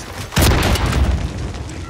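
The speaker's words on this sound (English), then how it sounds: "blew me up with a rocket launcher" A rocket launcher explosion from a shooter video game: a single loud, sudden boom with a sharp attack, followed by a rumbling tail that fades slowly over about a second and a half.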